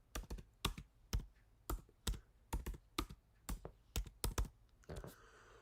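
Computer keyboard typed on in short bursts of clacking keystrokes, about a dozen close, crisp clusters with brief gaps between them, and a faint rustle at the end.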